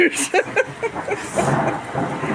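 Thunder rumbles through a summer rainstorm, with uneven low booms and crackling bursts over a steady wash of falling rain, fairly loud and close.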